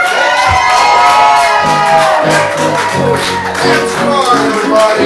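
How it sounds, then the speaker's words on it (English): A comedy club audience cheers and claps for a comedian taking the stage, with loud whoops and shouts over a busy crowd, and music playing underneath. "Please give a round of applause for Brian Bixby."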